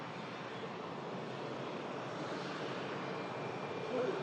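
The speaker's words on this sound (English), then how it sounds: "This is a 32-year-old Boeing 757-200." A 32-year-old Boeing 757-200 jet at Manchester Airport during a storm makes a continuous dull roar that swells slightly near the end, blended with a wash of wind noise.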